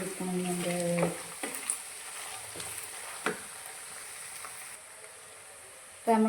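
Beef pieces frying in hot oil in a pan for beef pickle, a steady close sizzle running through with a few stirring clatters and a brief voice at the start and end.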